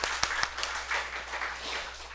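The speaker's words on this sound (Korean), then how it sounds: "이렇게 살아계신 주님을 찬양합니다 하면서 박수 한번 쳐보세요" A church congregation claps together for a few seconds at an Easter service, a soft, fairly distant patter of hands in a large room, with a couple of sharper claps near the start.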